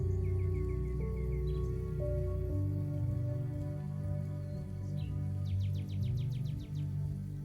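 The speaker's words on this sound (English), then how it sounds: "Hear the birds chirping" Faint bird chirps and a quick trill sound over a steady low hum of outdoor ambience, distant and soft.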